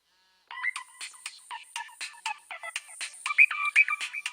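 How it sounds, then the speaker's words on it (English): A phone rings with a bright electronic ringtone, a rapid warbling pattern of tones that starts after a brief silence and grows louder. "It may take just a few moments before your phone begins to ring."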